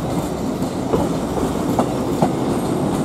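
An LNER Azuma Class 801 train departs London King's Cross for York, giving a steady, loud rolling rumble with a few sharp wheel clicks over rail joints.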